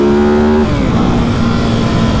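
A Ducati motorcycle runs at full throttle on a road through a right turn, with a loud, steady engine roar and a brief shift in pitch early on, close and without talk.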